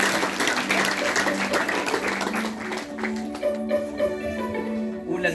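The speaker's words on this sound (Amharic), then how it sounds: "አጨብጭቡ ለጌታ።" A church congregation claps for the Lord in a dense, sustained burst of applause that fades into sustained musical tones and a voice toward the end.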